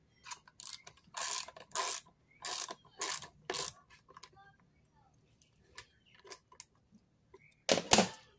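Bar nuts on a Craftsman CMCCSL621B cordless lopper are tightened by hand, giving several close bursts of rapid ratcheting clicks separated by pauses, with one final louder burst near the end.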